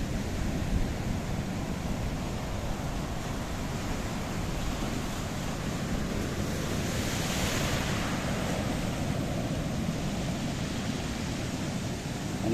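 Mediterranean Sea waves wash steadily onto a pebble shore along a coastal path at Chlorakas, Paphos, Cyprus: a continuous broad roar of surf mixed with wind noise on the microphone, with no single wave standing out.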